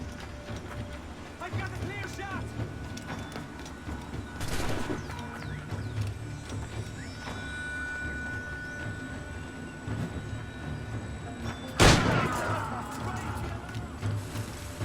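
Gunfire in Assassin's Creed IV as shots hit barrels, with a few sharp, loud cracks standing out over a steady game background and a talking voice, the strongest burst coming near the end.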